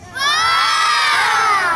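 A circus audience of children shouting together in a loud, sustained high-pitched "oh," rising and holding for about a second and a half, close and alone.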